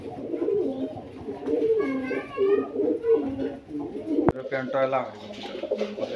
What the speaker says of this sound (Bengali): একদম ইউরোপিয়ান লাহোরি কবুতর